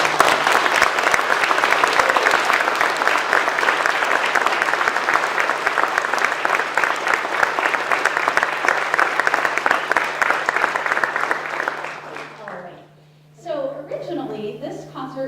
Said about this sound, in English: So Henry John Wacker, can we just give a round of applause for him?